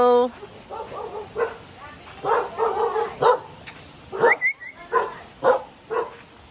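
A dog barks and yips in short, irregular bursts at close range, mixed with people talking nearby.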